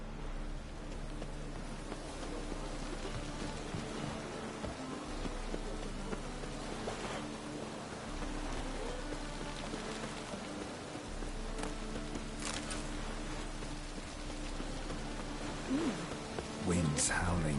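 Steady rain hisses throughout a stormy scene in The Witcher, a dense even wash with occasional louder patters and faint low rumbles, with game characters' voices heard over it at times.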